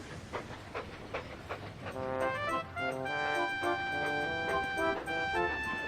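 The steam engine Duncan puffs away in a few rhythmic chuffs, then sustained whistle-like tones ring over the chugging, all fairly faint.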